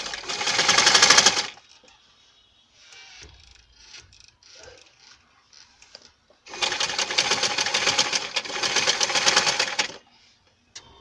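A sewing machine stitching bias piping onto cloth: two loud bursts of rapid whirring stitching, each a few seconds long, separated by quiet fabric handling and light clicks.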